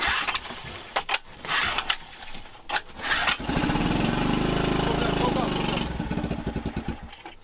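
A new boat's engine cranks in several short bursts, then catches and runs with a steady rough drone for a few seconds before sputtering down, with people talking around it.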